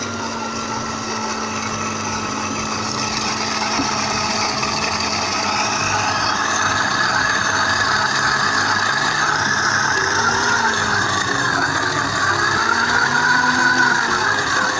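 High-speed blender whipping chicken mayonnaise as oil is drizzled in, a loud steady motor whine that holds for the whole stretch with shifting tones as the mixture thickens.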